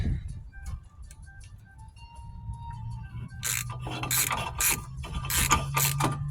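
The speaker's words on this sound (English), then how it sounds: "we're just going to put these on with just a basic ratchet" A basic hand ratchet clicks rapidly while fastening car brake caliper parts, bursts of dense metallic ratcheting growing busier toward the end, close up over a steady low hum.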